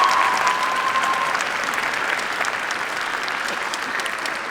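Concert audience at a high school all-county orchestra event applauds in a dense, steady wash of clapping that tapers slightly toward the end.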